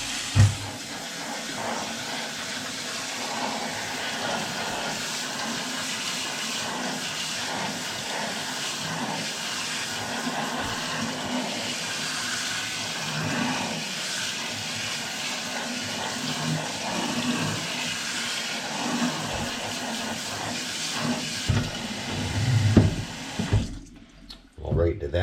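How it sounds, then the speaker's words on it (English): A long, steady rush of running water rinses broccoli sprouts in a stainless steel sprouter. The hiss stays even for over twenty seconds, then breaks off into a few clatters and drips near the end, with faint talk underneath. "All right, that is a thorough rinse."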